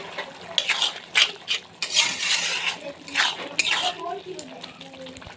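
A spoon scrapes and clinks against the metal pot of a pressure cooker as a gravy of bamboo shoots and chana dal is stirred, repeated irregular scraping strokes with a soft simmer underneath.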